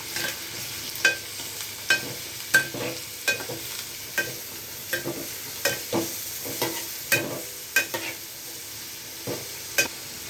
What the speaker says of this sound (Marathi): आता बघा कांदा टाकून झाला. आता मी याला परतते.